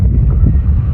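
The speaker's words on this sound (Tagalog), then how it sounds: "Ang lakas ng hangin sa taas." Strong monsoon wind roars and buffets steadily against the microphone during kite flying, a low constant rumble with no pauses and no voices.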